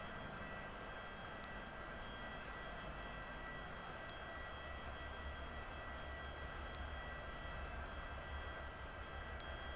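A light aircraft engine in Flight Simulator X taxiing toward a gate, a steady droning hum with faint high whine, continuous and even throughout.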